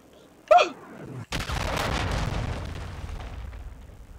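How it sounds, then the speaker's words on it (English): A cruise missile explosion in Call of Duty: Modern Warfare 2, a brief sharp crack followed by a heavy booming blast that rumbles on and slowly fades, loud and close, with a faint voice at the start. "launched a cruise missile"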